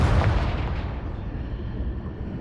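A Confringo fire spell explodes in Hogwarts Legacy, a loud, close, deep boom that bursts at once and then rolls on as a long rumbling roar that slowly fades, heard alone without speech.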